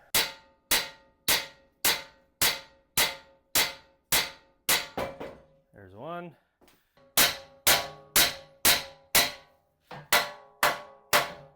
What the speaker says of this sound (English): All right, big hammer time.